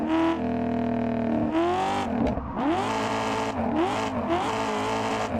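A Mazda MX-5 drifting in the Assetto Corsa racing game revs hard with shifting engine pitch, tires squealing through slides, loud and continuous with brief gaps between bursts.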